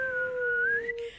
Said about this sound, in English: I actually learned how to whistle by inhaling instead of exhaling.